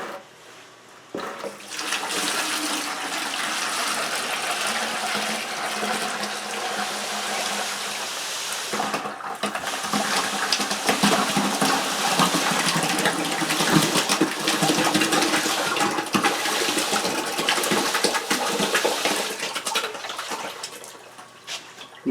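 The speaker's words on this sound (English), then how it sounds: "we need to dump the water, the berm, and the gravel into the buckets." Water, birm media and gravel from an EcoWater iron filter tank pour and rattle into buckets, a sustained loud gushing, sloshing rush with a brief pause partway through, then heavier pouring.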